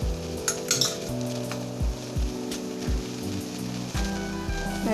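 Coconut milk bondas fry in oil over medium heat, giving a continuous close sizzle with occasional light clinks from a pan or utensil, and no one speaking.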